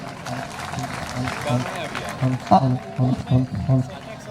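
An audience at an alumni meet inauguration ceremony claps in several bursts, the applause swelling and dropping with short pauses between, while a voice speaks in Hindi over it.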